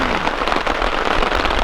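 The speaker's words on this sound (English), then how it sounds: "I got back to camp just in time, because that's just pouring now." Heavy rain pours down at a backcountry camp in a steady, dense hiss, with countless drops pattering close by on the surface of a hot tent, loud and unbroken throughout.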